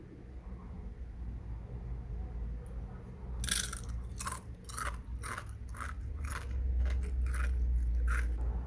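Crispy fried star waffles crunch through a series of sharp, close bites and chews, quick repeated crackles over a low background hum, with no talking.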